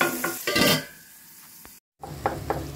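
Tomatoes being stirred with a ladle in a pan for Andhra-style mutton curry, giving a few scraping stirs and a soft sizzle, then a brief silence before more stirring.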